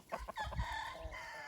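A farm rooster gives one brief crow, preceded by a few short clucks, close and fairly quiet, with no voices.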